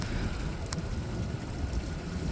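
A MacGregor 26M sailboat sails under wind power without its engine, giving a steady rush of wind and water with constant low rumbling and no distinct events.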